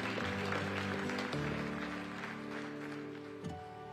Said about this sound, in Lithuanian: Aplodismentai jai.